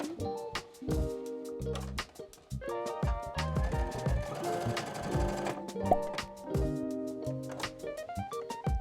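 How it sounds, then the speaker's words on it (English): A sewing machine runs in quick rhythmic bursts with pauses between them while stitching fabric daisy petals for a pillow, its needle chatter clear and close. "you can sew a regular stitch on top to hold them in place"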